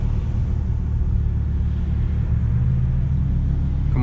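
A Nissan 350Z fitted with a full Tomei exhaust drives steadily, its deep engine rumble and low droning exhaust note continuous and close throughout, with no talk over it.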